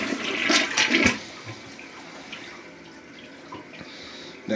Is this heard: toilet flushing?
yes